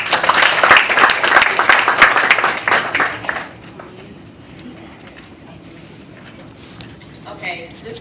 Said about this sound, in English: I'd like to give a round of applause for him